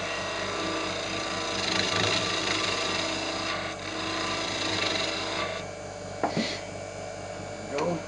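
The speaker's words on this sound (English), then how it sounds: "Bring this down just a little bit here and sand up this side of it and then turn it around." Wooden pill-shaped toy spinning on a woodturning lathe while being sanded, a steady motor hum with a soft, continuous rubbing hiss and a few brief knocks near the end.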